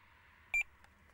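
Tx-i Plus fishing bite alarm sounding two short, close, high-pitched bleeps in quick succession against a quiet background.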